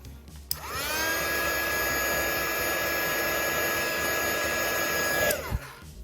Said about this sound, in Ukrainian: і просушуємо, щоб швидше висихав феном.